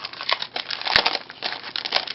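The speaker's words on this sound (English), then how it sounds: "When you open up the honeycomb paper pad," A thick 5-by-7-inch honeycomb paper pad crinkles and rustles close by as it is pulled open, with a couple of sharp crackling snaps among the softer rustling.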